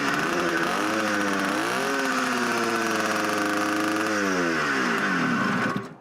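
A small Zundapp 125 engine on a Yerf Dog go-kart, running rich, revs hard and steadily, its pitch climbing and holding high before dropping back, loud and close, with no voices.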